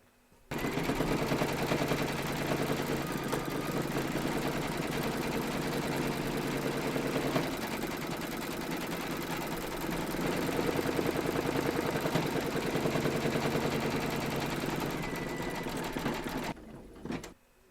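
An embroidery machine stitches a round of a large Statue of Liberty applique, its rapid needle chatter running loud and continuous for over fifteen seconds before cutting off.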